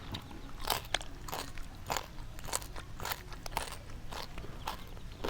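Crunchy bites into shellfish eaten with a seafood dipping sauce: sharp crunches and crackles come in an irregular chewing rhythm, close and fairly quiet, with no talking.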